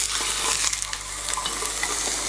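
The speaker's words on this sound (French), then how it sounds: "Ça commence déjà à saisir." Chicken searing in a covered pan over medium heat, a dense continuous close sizzle with scattered crackles and a low steady hum underneath, no talk.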